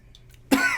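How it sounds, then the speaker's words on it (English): A man gives a single short, harsh cough up close after a moment of near silence, ending with a small second burst. "Laughing so much you're making yourself cough"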